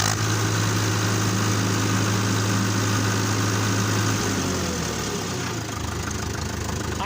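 A Fordson Major tractor engine runs loud and close at a steady idle, its low chugging drone holding even before the pitch drops and settles partway through.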